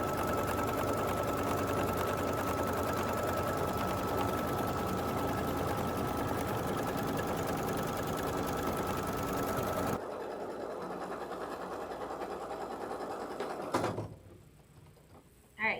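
A sewing machine runs steadily for a long continuous stretch, sewing a two-ply tacking stitch around a fabric square, then the motor drops off, followed by a brief clunk and a quieter tail.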